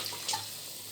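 Water running briefly from a tap into a cooking pot while preparing parboiled rice, a short steady splash.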